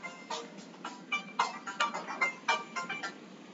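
Phone ringtone from an incoming client call, a repeating electronic melodic pattern of short pulsed notes, clear and fairly close, no talking.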